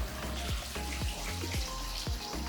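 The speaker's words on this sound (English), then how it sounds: "such a simple, minimalist water feature. It sounds so nice." A minimalist water feature spills into a backyard swimming pool, giving a soft, steady trickle with rhythmic drips and splashes at a quiet, moderate distance.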